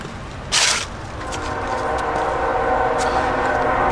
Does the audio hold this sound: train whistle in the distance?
yes